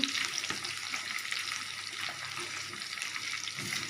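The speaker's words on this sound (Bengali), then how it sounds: "টমেটোটা দিয়ে দিলাম এবার টমেটো একটু নাড়াচাড়া করি" Tomatoes fry in a pan while being stirred, giving a steady, moderately loud hiss with occasional soft scraping, continuous throughout with no talking.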